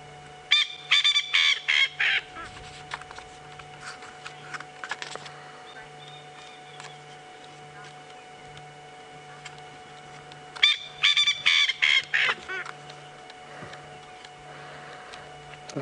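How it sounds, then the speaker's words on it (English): Small, noisy wild bird on an evening safari drive, giving two separated bursts of rapid, sharp, ticking calls against a faint steady engine hum. "Very noisy little bird for its size."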